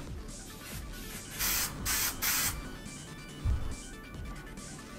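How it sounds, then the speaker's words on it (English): An aerosol can of spray adhesive sprays onto paper towels in three short hissing bursts close by, separated by brief pauses, with faint handling sounds around them. "just spray some spray adhesive lightly on your paper towels"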